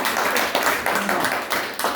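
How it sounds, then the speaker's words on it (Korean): A small audience of about nineteen attendees at a candlestick chart analysis seminar claps together, a dense patter of hands surging in several bursts over a couple of seconds, close and fairly loud. "자, 박수 한번 쳐보세요."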